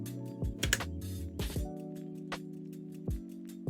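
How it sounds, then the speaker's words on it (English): Computer keyboard typing during an art stream, a handful of sharp, uneven clacks in quick bursts and then scattered single taps over a quiet background tone. "I need to stop typing, girl."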